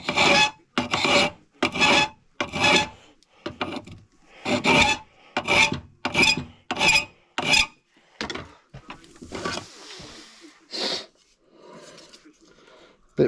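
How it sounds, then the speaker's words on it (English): A hand file rasps against the metal corners of homemade motorcycle crash bars in steady back-and-forth strokes, about a dozen close, even rasps that slow and thin out toward the end. "now we are just filing"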